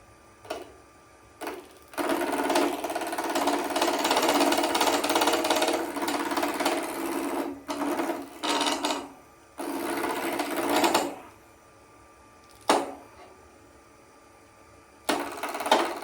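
Woodturning gouge riding the bevel into a wooden blank spinning on a lathe, a loud continuous rasping cut in several bursts of a few seconds each, separated by pauses where only faint motor hum remains.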